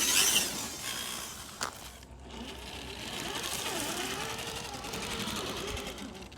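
An Axial SCX10 III RC crawler drives in reverse gear, giving a faint, continuous electric motor and gear whine with a soft mechanical buzz. A brief tick is heard partway through.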